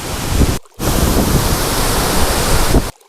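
Mae Tia waterfall pours with a heavy, steady rush of water, loud and close, broken by two brief silent gaps.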